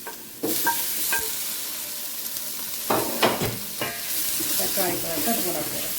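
Chopped tomatoes drop into hot oil for a spicy crab curry and sizzle steadily up close, with a few sharp clatters of stirring scattered through the frying.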